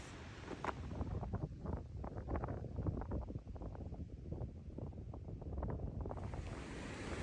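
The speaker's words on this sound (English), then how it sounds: "It is getting really windy." Steady wind rushes and gusts across the microphone at a lakeside campground, a low roaring buffeting that rises and falls without letup and with no voices.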